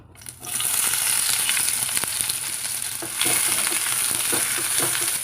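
Onions sizzle and crackle loudly in hot peanut oil, a steady bright hiss with occasional stirring scrapes, no voices.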